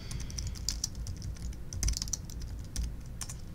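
Typing on a computer keyboard during a live coding session, with quick irregular close key clicks and a few heavier thumps, running steadily with no talking.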